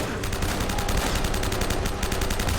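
Rapid automatic gunfire from the Uncharted: Drake's Fortune video game, a dense continuous burst of shots filling the whole stretch at steady loudness.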